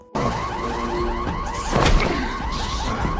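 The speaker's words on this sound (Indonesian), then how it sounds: "menyalakan alarm kebakaran agar psikopat makin tidak tahan karena suara alarm yang begitu keras" A loud electronic fire alarm wails in a rapid, repeating warble, with a heavy crash cutting through midway.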